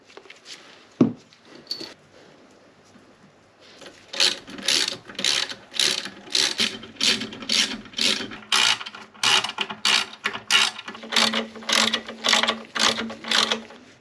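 A ratchet wrench tightens Loctite-coated bolts on the exhaust of a Yamaha VX110 during restoration. One sharp clack comes first, then a steady series of about fourteen close, rhythmic ratcheting bursts with no talking.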